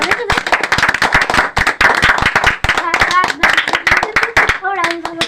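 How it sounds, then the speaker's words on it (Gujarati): Rapid, dense clapping from a group of people at a birthday party around the cake cutting, continuing steadily throughout with voices talking and calling out over it. "તાળી પડે તાળી પડે"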